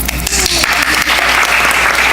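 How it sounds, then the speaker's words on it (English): Loud, dense applause from a crowd at a board of education meeting, steady throughout the short burst, close and filling the room. "good clap for them"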